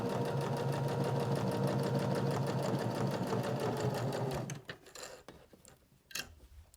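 A sewing machine runs a fast, steady stitch along a seam on a fabric journal cover, close and continuous for about four seconds, then stops, leaving a few soft clicks and handling noises.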